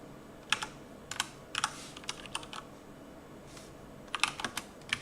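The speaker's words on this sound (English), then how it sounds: "I'm typing really slow because it's only my left hand." Slow typing on a computer keyboard, one hand only: isolated clicks and small bursts of keystrokes with pauses between, close and fairly quiet.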